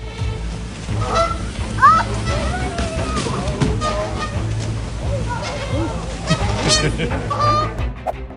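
Geese in Japan honk repeatedly and loudly, harsh calls scattered over splashing water and a murmur of people nearby.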